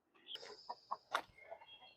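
A few chickens clucking nearby, a quick run of soft clucks and short squawky calls over about two seconds, faint and alone with no talk.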